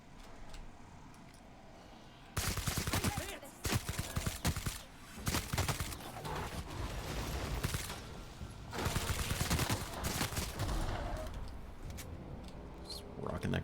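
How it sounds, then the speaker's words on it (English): Grenade launcher firing in The Outer Worlds, heard as repeated bursts of loud, sharp shots and blasts in clusters, starting after a quieter opening and continuing with brief gaps. "Just rocking that grenade launcher"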